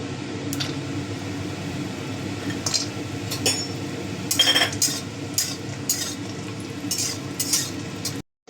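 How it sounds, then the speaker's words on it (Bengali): Lentil dumplings (bori) sizzle in hot oil in a wok, a constant fizzing backdrop with intermittent clinks and scrapes of a utensil, ending abruptly. "তেলটা গরম হয়ে গেছে, বড়িগুলো ভেজে নেবো।"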